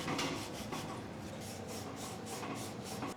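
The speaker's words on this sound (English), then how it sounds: "Green scrub pad." A green scrub pad rubs over a Samsung washer tub near the seal, a steady close-up rasping scrub with rhythmic back-and-forth strokes throughout, alone without talk.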